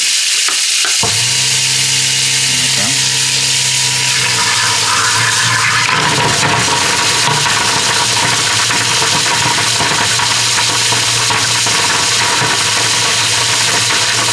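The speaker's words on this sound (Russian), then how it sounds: "Включаем дисползер." A garbage disposal kicks on with a motor hum, then grinds and rattles hard crab shells amid rushing water, a loud churning roar that continues steadily.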